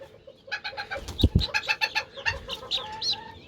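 Chicks and a young rooster clucking and cheeping in a coop, a quick run of close, bright calls in steady succession, with a couple of heavier low thumps partway through and no talk.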